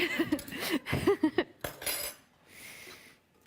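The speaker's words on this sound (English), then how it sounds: "I'm actually gonna take the spoons out" Metal spoons clink and scrape against clear bowls as they are lifted out, a quick run of close, bright knocks followed by a fainter rustle.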